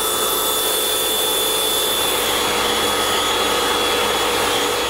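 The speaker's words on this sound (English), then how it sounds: "we vacuumed out the area surrounding the condenser fan and also the vent area here" A vacuum cleaner roars continuously at close range while cleaning refrigerator coils and condenser fan area, a steady high-pitched whine and rush of air with no pauses.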